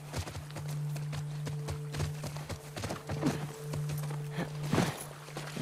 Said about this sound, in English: I believe the horse is here